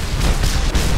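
Explosive arrow detonating in the Mad Max video game: a dense, continuous roar of booming blasts spread across the whole second, loud and close, with no talk over it.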